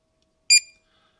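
A single short electronic beep sounds once from a diagnostic gadget reading fault codes on a Mazda MX5/Eunos Mk1/2 ECU, clear and alone in near silence.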